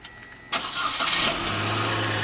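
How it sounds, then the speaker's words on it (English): A car engine starts by remote start: a quiet lull, then a sudden crank and catch, settling into a steady idle that runs on, close and fairly loud. "Remote start."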